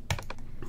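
A few quick keystrokes on a computer keyboard while entering Max/MSP shortcuts, close and clear: a sharp tap, a couple of lighter clicks and a faint final press, with no talking.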